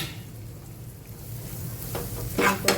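Onions fry in oil in a pan for a bread pakoda filling, a steady low sizzle with a few brief scraping stirs near the end.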